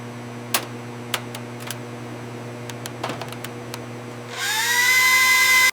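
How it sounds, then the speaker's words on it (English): A power tool whirs up loudly near the end while screws are backed out of a radar power supply, preceded by steady mechanical hum and a few sharp clicks and taps. "Unscrewing power supply now."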